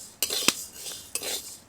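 Rice dry-frying in a pan, stirred with a metal utensil: a few sharp scrapes and clinks against the pan with short rustling between, close and fairly soft, with no speech.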